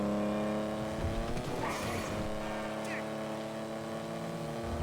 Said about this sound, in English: that's the engine noise that you're hearing there, obviously